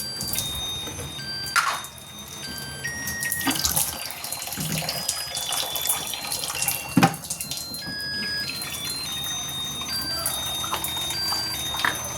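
Water runs steadily from a kitchen tap into a container as it fills, with a continuous splashing rush that fills the whole stretch and a few brighter clinks and splashes along the way.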